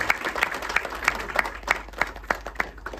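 A crowd at the trailer launch of the Marathi film Susheela Sujeet claps in a loose, pulsing rhythm, each burst of applause rising and falling over about three seconds.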